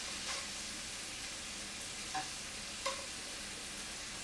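Shrimp sizzle in a pan while being turned for creamy lemon garlic shrimp, a soft steady frying hiss broken by a few brief scrapes and taps.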